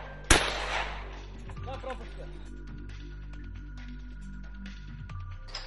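A shotgun fires at a hunting-style skeet shooting competition: one sharp, loud report near the start, then a quieter stretch of low rumble and faint background activity.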